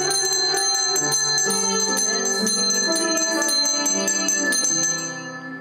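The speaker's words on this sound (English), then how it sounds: "Let's ring our bells while we sing," Handheld bells ring loudly and steadily in a children's Sabbath School class, bright metallic jingling with repeated strikes layered over a sung melody, the ringing fading slightly at the end.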